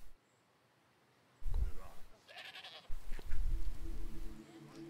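Goats in the prehistoric survival game Dawn of Man bleat several times in short bursts, loud and close, with someone talking over them.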